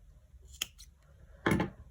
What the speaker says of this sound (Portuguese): Esses 2 fios aqui eu já posso cortar.